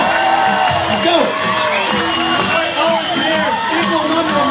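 Audience at a hypnosis show cheering, whooping and shouting loudly and continuously, a dense crowd roar with excited voices throughout.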